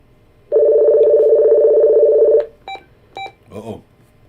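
Telephone tones ring out: a long, steady dial tone, then two short DTMF dialing beeps. A brief spoken sound follows at the end.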